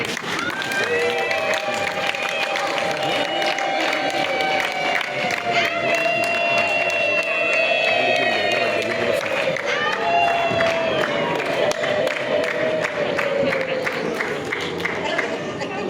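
Wedding guests clapping and cheering as a steady crowd roar, with shouts and voices rising above the continuous applause throughout.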